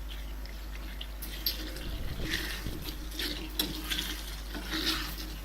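Prawn masala is stirred in a cooking pan, a soft continuous scraping and sloshing with faint clinks of the utensil against the metal, steady and close over a low background hum.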